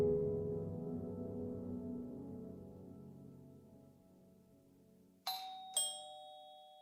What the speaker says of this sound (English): the Fabiano's doorbell rang for the first time that night